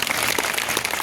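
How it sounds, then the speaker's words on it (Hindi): Audience clapping for a group of children called forward on stage at a kids' talent show, a brief, steady burst of applause at moderate level with no talk over it. "जोरदार तालियां सभी के लिए प्लीज।"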